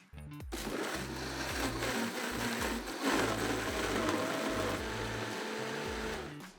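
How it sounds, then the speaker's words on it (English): A kitchen blender grinds toasted spices, onions, garlic, brown sugar and coconut vinegar into a paste, kicking on abruptly and running loud and steady with a rough, churning whir and slight pitch shifts, stopping at the end with no talking. "We'll go ahead and put our toasted spices in the blender."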